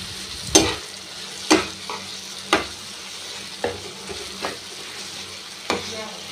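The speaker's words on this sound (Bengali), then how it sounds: "ফাটিয়ে নিয়ে এবার মশলাটাকে কষাচ্ছি এরকম করে" Spice masala frying in oil in a pan for a Bengali small-carp curry, a continuous sizzle broken by about seven sharp scrapes of a spoon stirring against the pan at roughly one-second intervals, close and without talk.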